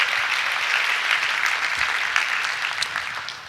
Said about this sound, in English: Let's give him a big round of applause for the work he does.